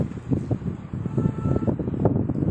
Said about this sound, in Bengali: এরকম ধরনের হাওয়া দিচ্ছে এখানে।